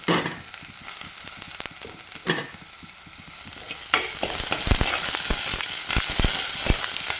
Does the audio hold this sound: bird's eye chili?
yes